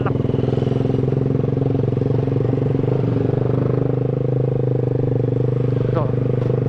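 A motorcycle engine drones steadily up close while riding a rough road near Leuwiliang, Bogor, with a rattling, bumpy texture throughout and a person talking over it.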